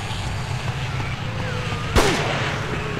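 An enemy opens fire in the horror game Forbidden Siren: one sharp, loud gunshot crack cuts through a steady ambient drone, followed by a brief ringing tail.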